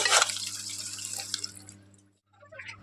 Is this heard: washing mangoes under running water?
yes